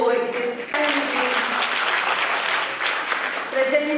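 An audience claps at a World Heritage Week ceremony in Jammu: dense, steady applause that fills about three seconds, with a speaker's voice just before it starts and again as it ends.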